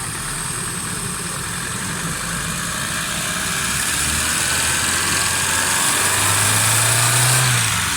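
A Suzuki Alto 1000cc car engine with a black-smoke and misfiring fault idles steadily and continuously, a close, even mechanical drone that swells slightly toward the end.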